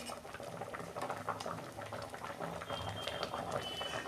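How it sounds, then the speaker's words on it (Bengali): Cooked mango chutney being poured from a pot, giving a thick, bubbling, gurgling liquid sound that runs steadily throughout at close range. "আমি এবার ঢেলে ফেলছি"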